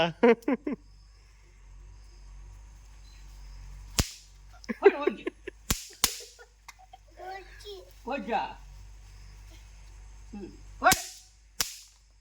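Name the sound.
toy caps popping when struck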